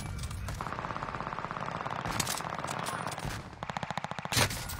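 Rapid automatic gunfire from a shooter video game rattles in several fast bursts, loud and close, with a short pause near the middle and a final burst ending on a heavier blast.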